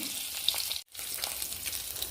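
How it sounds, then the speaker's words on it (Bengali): A whole egg fries in oil with a continuous bright crackling sizzle that drops out briefly once before resuming. The egg is meant for a Bengali egg chop. "ডিমটাকে একটু ভেজে নেব"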